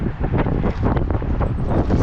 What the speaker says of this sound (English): it's a little windy there